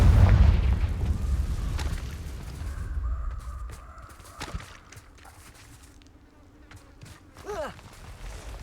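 A Confringo fire spell explodes in the Hogwarts Legacy video game: a loud, deep, rumbling blast at the start that fades, then a sharp impact midway and a softer swooshing burst near the end, with faint game sounds between.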